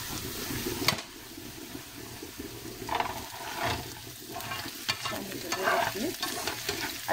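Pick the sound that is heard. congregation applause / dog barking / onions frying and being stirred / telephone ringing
onions frying and being stirred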